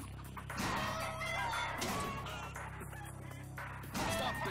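Chickens in the action shooter Blue Estate cluck and squawk repeatedly in loud, overlapping bursts over a steady background hum, with a fresh flurry of clucking near the end.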